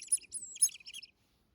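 A tit answering a Clausen Nordic predator-call whistle used for fox hunting: a quick run of high, thin chirps and tweets, faint and somewhat distant, lasting about a second before falling silent.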